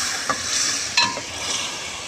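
A spoon stirs chana dal frying in a pan with water just added, giving a soft sizzle with a few light scrapes and clinks of the utensil against the pan, close and alone.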